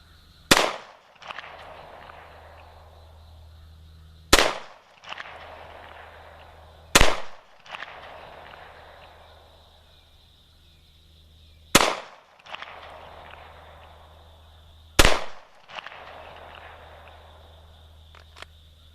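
A SIG P250 pistol fires five single shots, spaced a few seconds apart, each a sharp loud crack with a short echoing tail outdoors, no talking between them.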